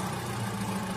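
A Mitsubishi Chariot Grandis engine idles after a timing belt replacement, giving a steady, even hum with a constant low drone and no breaks across the whole moment.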